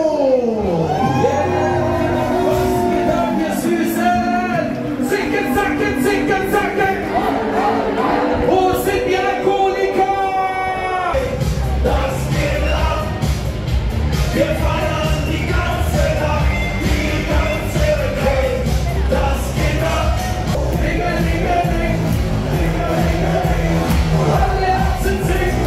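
A party crowd at Ballermann, Playa de Palma on Mallorca, cheers, whoops and shouts, loud and sustained. An announcer's voice and music come first, then a dense roar of the crowd swells after about eleven seconds.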